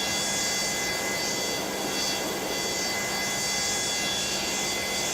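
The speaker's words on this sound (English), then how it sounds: "that's the sound of the engine will start up with the doors open" Simulated Boeing 727-200 jet engine spooling up during a start in a flight simulator, a steady broadband whine and roar with a high tonal hiss, continuous and fairly loud throughout with no talking.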